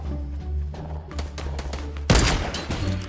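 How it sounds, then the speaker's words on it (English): Rapid gunfire in Fortnite Battle Royale aimed at a wall, a dense burst of shots and impacts, loud and close, peaking in a heavy thump near the end. "keep shooting that wall"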